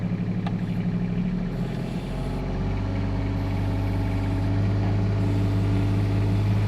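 A low, steady diesel engine of a Kubota RTV utility vehicle idles and runs continuously up close, a deep, tractor-like rumbling drone with a slight rise in pitch partway through.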